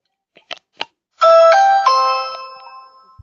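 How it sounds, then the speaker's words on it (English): A doorbell chime rings out loudly with two or three sustained tones that fade away, after a couple of short soft knocks or clicks. "Just ringing the bell."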